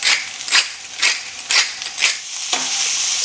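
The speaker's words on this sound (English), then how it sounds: "Toss well, and we're going to saute all this for just 1 minute." Onions, garlic, herbs and olives are tossed and sautéed in a pan, giving a loud, bright sizzle that swells in rhythmic waves roughly every half second with each stir, then settles into a steady hiss.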